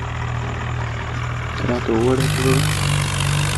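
A Swaraj 744 tractor engine in a video game idles with a low, steady drone that revs up and grows louder near the end, while someone talks over it.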